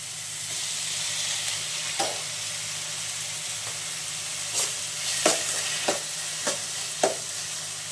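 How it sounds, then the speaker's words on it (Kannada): Onions and tomatoes frying in oil in a pan for a bitter gourd stir-fry, a steady soft sizzle with occasional stirring scrapes and clinks. "ಆನಿಯನ್ಸ್ ಫ್ರೈ ಆಗೋಕ್ಕೆ ಟೊಮೊಟೊ ಸೇರಿಸ್ಕೊತಾ ಇದ್ದೀನಿ"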